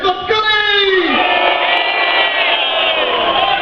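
A stage audience at the Cosplay In Rio Gamer's Edition 2011 convention erupts in loud cheering, whoops and screams, a dense sustained crowd roar that starts at once and holds steady throughout.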